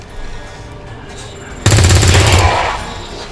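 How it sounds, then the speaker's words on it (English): A rapid burst of automatic gunfire in the video game XCOM 2, shooting an officer. It rattles loudly for under a second after a quieter stretch of game ambience. "with that done, we shoot the officer"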